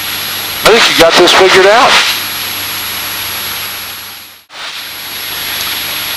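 A Piper Cub light aircraft engine drones in flight as a steady broadband roar heard from inside the cockpit, with someone speaking over it early on, then the power drops and the sound briefly falls away before settling again.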